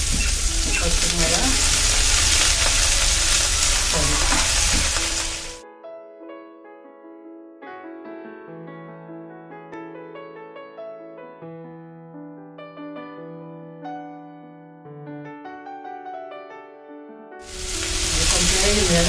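Chopped coriander sizzling in hot oil in a pan for a chutney, with a steady loud hiss at the start and end and a stretch of instrumental music in between.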